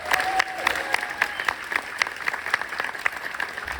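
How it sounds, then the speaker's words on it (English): A crowd claps steadily for several seconds with scattered whoops and cheers, a convention audience at a fan expo Q&A panel. "Make some noise for the late great Bill Paxton."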